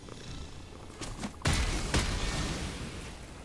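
A pet cat companion in MTG Arena purrs in a low, steady rumble, getting louder partway through and carrying on continuously, close up with no talking.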